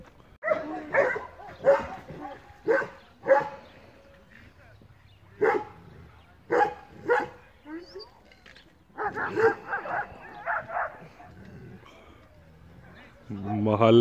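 A Belgian Malinois barks in loud, spaced bursts, some yelping and whiny, close by, with a short pause midway and a final burst at the end.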